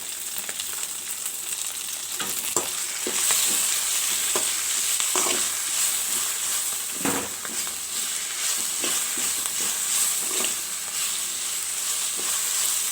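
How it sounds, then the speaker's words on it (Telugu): Senna leaves frying in a little oil, a steady close sizzle with occasional stirring clinks and scrapes of the spoon in the pan, no talking throughout. "ఇందులో కొద్దిగా ఆయిల్ వేసుకొని బాగా వేయించుకోవాలి"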